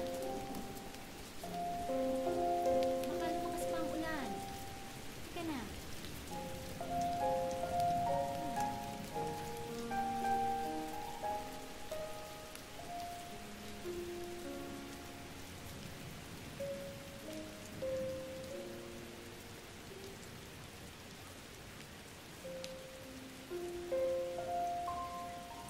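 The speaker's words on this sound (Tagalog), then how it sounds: "Baka lumakas pa ang ulan." Steady rain pattering on a surface, with scattered drips and patters over a soft wash, fairly quiet and continuous throughout.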